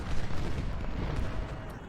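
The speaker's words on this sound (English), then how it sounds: "All of our cannons start firing at them." Cannons fire across a Civil War battlefield at Second Bull Run in Ultimate General: Civil War, loud overlapping booms and crackling volleys blending into a dense, rumbling barrage.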